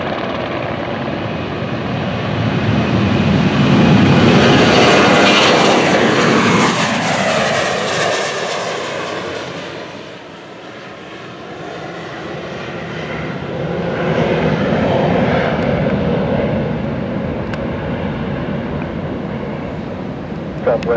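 A Southwest Boeing 737 jet roars down the runway on takeoff, a loud, sustained engine rumble that swells, dips briefly, then builds again as the aircraft climbs away.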